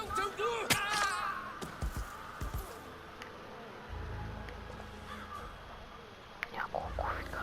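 Harsh crows caw a few times in Hitman 3, loud and close at the start, then sparser over a low ambient bed, with voices talking at moments.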